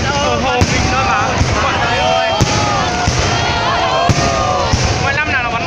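New Year fireworks at Hoan Kiem Lake in Hanoi bang and crackle overhead, with repeated loud bursts and whistling trails over a steady roar of the crowd, and people chatting nearby.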